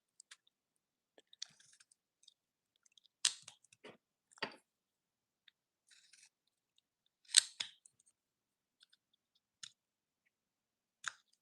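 A hand gouge cuts into wood while the eyebrows and forehead of a carved face are shaped, giving sparse, quiet, close-up scraping snicks and clicks with silent gaps between the cuts.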